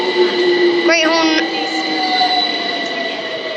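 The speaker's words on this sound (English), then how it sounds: "The train now standing at platform 2 is the 1511 London Overground service to West Croydon" London Overground train standing at Brockley station platform 2 on the Brighton main line, a loud steady electric whine and hum with a brief squeal of brakes or wheels near the start.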